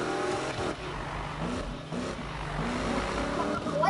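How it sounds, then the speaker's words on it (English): A car with a cracked, broken muffler revs steadily at a drag grudge race night, making a loud, continuous, rough engine drone that rises slightly toward the end, close by. "He got a broken muffler. He got a crack in it."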